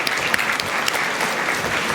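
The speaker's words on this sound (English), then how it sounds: "Can we have applause for the volunteers of the microphones as well?" An audience at a conference talk claps for the volunteers handling the microphones, a short burst of continuous applause with a few sharper individual claps.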